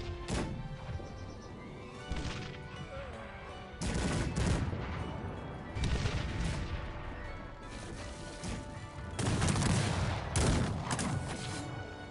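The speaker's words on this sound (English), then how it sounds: "Oh, it's just guns." Gunfire from the strategy game Cossacks: repeated bursts of musket and gun volleys crackle in clusters, with sharp crashing shots rising and fading across several waves, loud and close with no talking.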